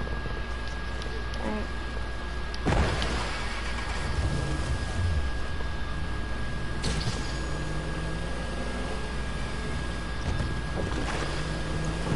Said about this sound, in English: Let's go on the boat.